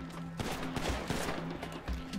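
An AK rifle in GTA V fires a quick string of loud, close gunshots, irregular cracks packed into about two seconds.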